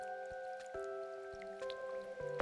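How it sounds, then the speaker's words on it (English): Rain in the video game Hylics: steady dripping and pattering drops over a sustained musical drone, fairly quiet and continuous, with no talking. "The rainfall intensifies and floods rain down."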